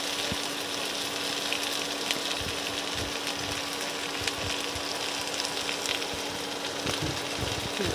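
Onions fry in a pan for an Italian-style red sauce pasta, a steady, close sizzle with a low hum and a few light clicks from the pan, and no talk.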